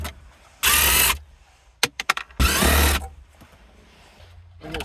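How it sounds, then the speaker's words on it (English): Two long bursts of a power drill or driver whirring near and loud, separated by a cluster of short ratcheting clicks, while Phillips screws are backed out of the radio bezel in a 2000-2004 Nissan Pathfinder dashboard. "it's going to be 4 Phillips screws, so you need an extension or a really long screwdriver"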